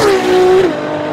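A Ferrari LaFerrari hybrid supercar's V12, shared with the F12 Berlinetta, revs loud and close with a sustained engine tone that drops off sharply about two-thirds through.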